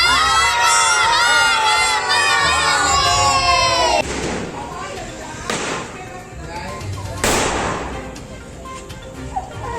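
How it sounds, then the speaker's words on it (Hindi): A large crowd at a Ravana effigy burning cheers and shouts together in a loud, sustained roar, followed by scattered firecracker bangs and thuds amid continuing crowd noise. "यहाँ भी रावण दहन की लीला को देखने के लिए लोगों की भारी भीड़ रही।"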